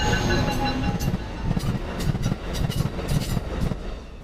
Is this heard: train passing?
yes